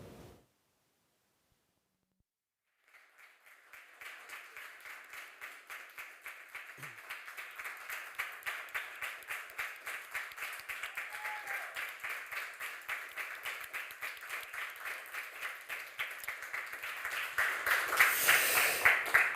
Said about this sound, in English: one last applause for Najin Ravand